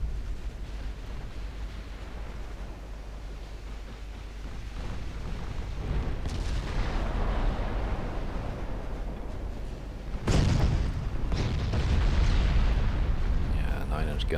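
Battleship guns firing shells in Ultimate Admiral Dreadnoughts, with a low ambient rumble building into a sudden heavy boom near the end that is followed by sustained thunderous roar, as someone talks underneath.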